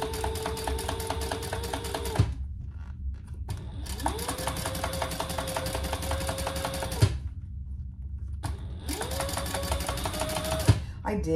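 A sewing machine stitches vinyl with Ottertex fabric for a storage caddy, running in three steady, fast-rattling bursts separated by brief silences, close and fairly loud.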